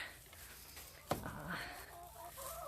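Hens cluck softly in the background, with a sharp brief sound partway through and faint murmuring calls continuing at low volume.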